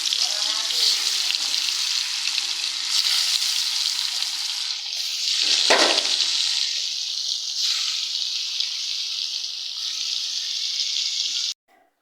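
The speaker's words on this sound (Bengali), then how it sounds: "তো এই যে কড়াইতে তেল দিয়ে দিলাম আর দিয়ে দিব মাছ।" Tilapia fish sizzles in hot oil in a wok, a steady bright hiss that runs for about twelve seconds and swells in the middle as the pieces settle, then cuts off abruptly.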